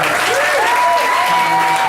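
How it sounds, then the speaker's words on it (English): Loud, dense clapping from an audience fills the whole moment, with a faint tone humming underneath. "Can we get a round of applause for that?"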